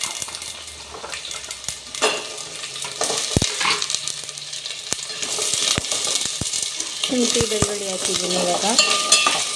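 Chopped onion, garlic and ginger fry in a pan for a mushroom gravy, with a steady sizzle under scattered clinks and scrapes of a utensil stirring; a brief spoken word is heard.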